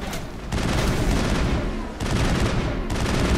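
Rapid automatic weapon fire in Mass Effect aimed at a Colossus, two dense loud bursts of continuous shots separated by a brief pause.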